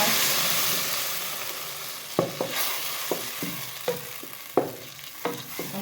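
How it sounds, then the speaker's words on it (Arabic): Lentils tipped into a pot of browned onions frying for Egyptian lentil soup: a steady sizzle broken by a series of sharp scraping stir strokes against the pot, close and clear with no talking. "بعد ما البصل احمرت هنحط عليها العدس."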